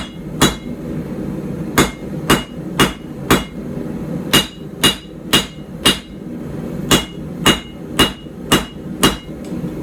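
Hammer forging the tang of a puukko knife on an anvil: loud, close, sharp ringing blows struck in a steady, slightly uneven rhythm, about fifteen hits, with no talking.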